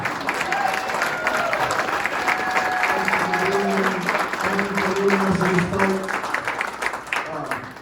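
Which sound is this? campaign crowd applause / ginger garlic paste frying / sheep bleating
campaign crowd applause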